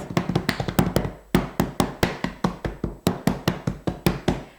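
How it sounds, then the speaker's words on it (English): Repeated tapping on the flour bowl of a grain mill after fresh whole grain flour has been milled, a steady run of about twenty crisp, close knocks in quick groups with short pauses, no voices. "all I have to do is pull out this bowl and tap on it a few times"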